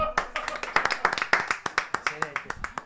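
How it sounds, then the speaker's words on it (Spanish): A small group claps along a live stream, a loose run of sharp, distinct hand claps close to the microphone, about a dozen quick strikes with voices talking underneath. "Un aplauso."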